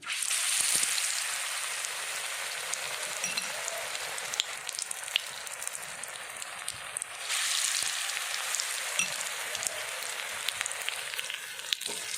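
Bubbling, hissing sizzle of bitter gourd pakoras deep frying in oil, a continuous crackle with scattered pops and a brief dip partway through.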